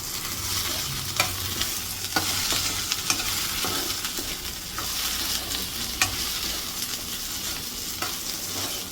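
Sliced okra sizzles steadily in a hot pan with turmeric added while a spoon stirs and scrapes it, bright continuous frying hiss punctuated by regular close clinks and scrapes.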